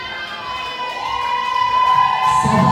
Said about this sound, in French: Allez, on applaudit encore une fois.